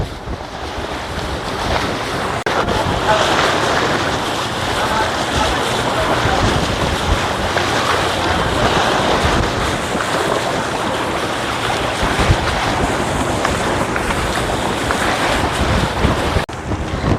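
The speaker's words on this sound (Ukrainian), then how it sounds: "Дуже великі волни." Large sea waves roll onto a beach in Egypt during a fishing outing. The surf washes continuously for the whole stretch, loud and close, with heavy wind buffeting the microphone.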